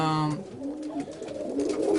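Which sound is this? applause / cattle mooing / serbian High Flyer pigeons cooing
serbian High Flyer pigeons cooing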